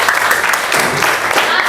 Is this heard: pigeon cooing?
no